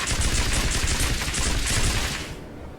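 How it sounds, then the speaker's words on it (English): Dense, continuous gunfire and explosive grenade blasts from the Aliens Dark Descent video game, a loud sustained barrage of rapid shots and booms that cuts off abruptly near the end. "I'm gonna spam grenades."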